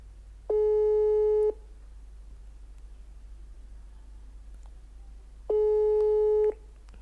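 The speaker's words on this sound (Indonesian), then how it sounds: "Ini sambil nunggu teleponnya diangkat ya." Two identical steady ringback tones, each about a second long and about four seconds apart, sound from a telephone while a call waits to be answered over a low background hum.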